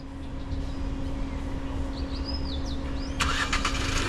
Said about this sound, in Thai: เพิ่มเติมฟังก์ชันสตาร์ทด้วยรีโมทนะครับกดล็อกหนึ่งที กดลูกศรค้าง